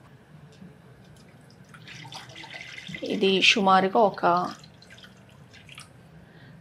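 Water from a glass poured into a pan on a stove while preparing a ragi flour drink, a short splashing burst of about a second and a half, with someone speaking before and over it.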